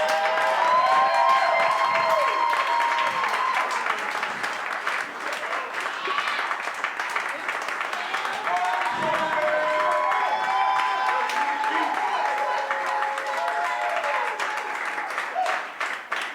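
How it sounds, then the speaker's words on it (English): Loud, sustained applause from a large comedy show audience with cheers and whoops mixed in, continuous throughout. "Give the loudest, biggest applause right now."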